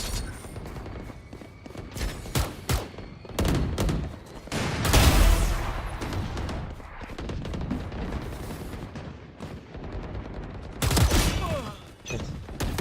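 Video game gunfire: bursts of shots and heavy booming blasts in several clusters, loud and close, with short quieter gaps between volleys.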